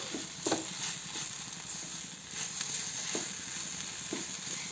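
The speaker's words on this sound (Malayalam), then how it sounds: "ഇനി നമുക്ക് ഇളക്കി യോജിപ്പിച്ച് കൊടുക്കാം." A beef cutlet mixture is stirred and mixed in a pan, with a soft steady sizzle under a few distinct scraping strokes of the spoon, close and moderately loud, with no voices.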